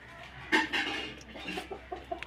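A rooster clucks a few times in short bursts, fairly close, with quieter bird calls around it.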